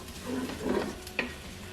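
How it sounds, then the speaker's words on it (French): Leeks are stirred in a hot pan with a soft continuous sizzle, a couple of gentle scraping sweeps and one brief clink of the utensil, close by and with no speech. "Donc là je mélange bien"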